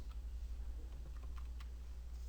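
Arrow keys on a computer keyboard are tapped in a quick series of soft, close clicks over a low steady hum, with no talking.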